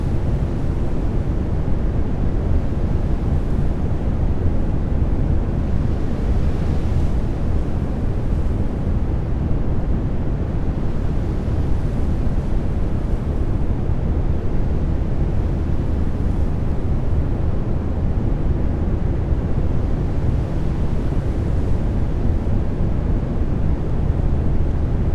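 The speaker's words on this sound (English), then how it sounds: "Look at the lovely waves coming in on the ship." Waves breaking against a ship in the NAUTIS Home ship simulator, a steady, loud wash of surf and rushing water that holds without a break for the whole stretch, with no voices.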